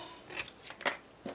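Scissors make a few quick crisp snips through the folded corners of paper for a mini album, close up and alone.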